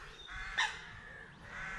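Coot on Irish waterside habitat lets out one sharp, loud squeak partway through, with quieter bird calls before and after and no talking.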